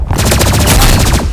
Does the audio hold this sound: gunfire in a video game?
yes